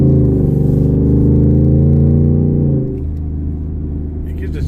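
A race truck engine revs loud and close, its deep rumble steady and then dropping to a lower idle-like drone partway through, with no one talking over it.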